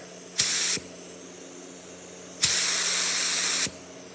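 Two bursts of a paint spray gun hissing up close, a short blast then a longer one, with a faint mechanical hum between them.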